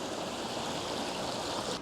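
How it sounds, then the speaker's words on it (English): A river in a park in Roppongi, Tokyo, rushes with a steady, close, full flow, a continuous watery wash without pauses or voices. "Oh, there's a river."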